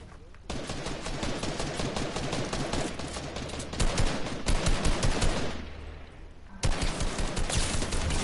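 SMG gunfire in a video game, rapid automatic bursts that run almost nonstop in loud, dense rattling strings, broken by a couple of short pauses.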